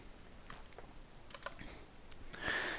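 A computer keyboard key, the Enter key, is pressed during a Python programming lesson, giving a few faint soft clicks and a brighter keystroke near the end in a quiet room.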